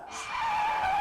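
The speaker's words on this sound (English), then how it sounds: "The lead car has come to a screeching halt, just 200 meters away from the finishing line" A race car's tires screech to a halt, a loud rising squeal that swells and holds for about a second, sharp and close, with no talking over it.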